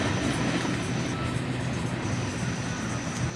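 A CSX freight train rolls past a grade crossing, its rolling stock producing a steady, loud broadband rumble and rattle that holds even throughout, with no voices.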